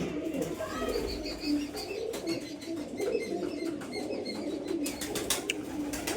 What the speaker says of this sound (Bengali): বন্ধুরা দেখতে পাচ্ছ কিছু পায়রা আপনাদের শো করায় দেখতে পাচ্ছ বন্ধুরা পায়রা তো দেখতে পাচ্ছ